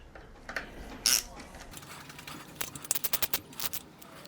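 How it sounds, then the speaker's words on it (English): Ratchet clicks tightening the final bolt on a supercharger during a refit, faint close ticking that builds into a quick rhythmic run of clicks near the end, with light handling noise. "Now very carefully we approach the final bolt."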